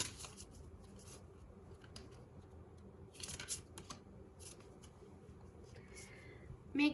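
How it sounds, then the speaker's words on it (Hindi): Tarot cards shuffled and pulled for a reading, with soft, continuous riffling and brief papery bursts, low and close, no talking. "I will pull 3 cards"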